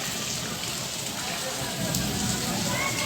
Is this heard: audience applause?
no